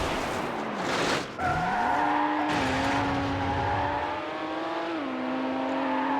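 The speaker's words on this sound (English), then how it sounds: "It's actually Murcielago that went past right there." Racing cars in Need for Speed Hot Pursuit 2, a Lamborghini Murcielago among them, roar along with a steady rising engine whine and a brief burst of tire-skid noise early on, loud and continuous throughout.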